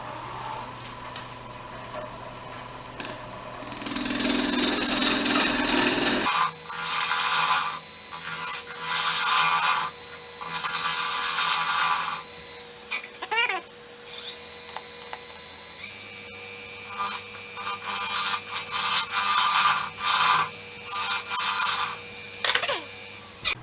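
A wood and resin bowl is hollowed out, likely on a lathe, with bursts of scraping and cutting that start and stop over a steady motor hum, some passages louder and rougher than others.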